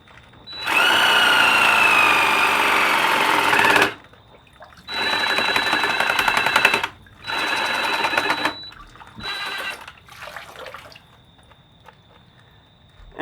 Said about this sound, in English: I've got another little pump in there, pumping some out